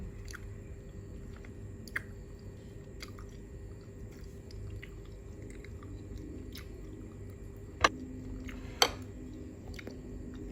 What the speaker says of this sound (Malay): Kita nak kunyah pun senang.